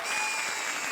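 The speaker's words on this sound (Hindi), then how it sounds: "सालो ताली मत बजाओ, रो।" Steady, dense audience clapping at a comedy show runs loud and unbroken for the whole second, with no other sound on top.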